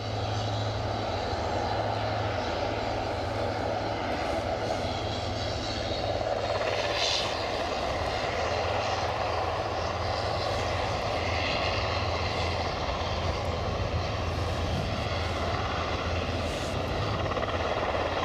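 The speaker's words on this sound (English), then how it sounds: "So definitely Loganair next in from Kirkwall in the ATR 600" A Loganair ATR 600 turboprop arriving from Kirkwall on final approach, its loud propeller drone and engine hum holding steady and close throughout, with no voices.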